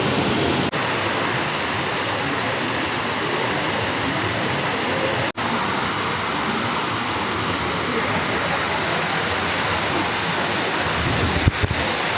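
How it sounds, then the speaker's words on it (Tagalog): Waterfall at Thousand Layer Stream in Hong Kong, a steady, loud broadband rush of falling water that fills the whole scene continuously, with no talk over it. "Waterfall."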